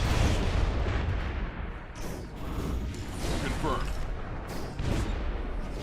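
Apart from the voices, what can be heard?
explosions in a video game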